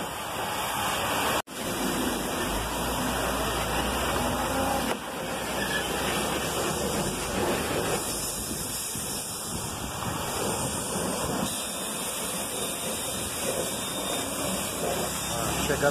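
Water sprays steadily from a hose onto a cargo truck during a wash, making a continuous loud hiss and splatter with a brief cut near the start.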